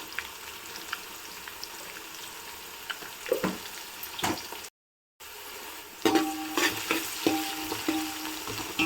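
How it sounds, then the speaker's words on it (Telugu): Onions salted and frying in a pan, a soft continuous sizzle with scattered spoon scrapes and clacks of stirring that get louder and busier later, after a brief gap of silence. "ఆనియన్స్ ఫ్రై అయ్యాయి కదా కొంచెం."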